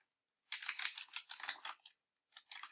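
Someone types on a computer keyboard in quick, close clicking bursts, then pauses and types a short final flurry, quiet and with no talking.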